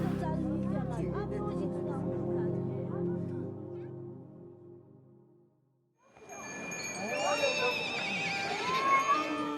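Horses neighing near a monastery in a steep mountain valley: first a low rumbling passage with voices, then after a brief hush several loud, close whinnies with rising and falling squeals over background murmur.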